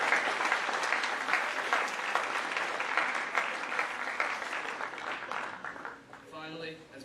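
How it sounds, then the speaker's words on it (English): Applause from an audience at a school awards assembly fills the room steadily for several seconds, dense and even, then thins out near the end as a few voices come through. "Let's give them all a round of applause."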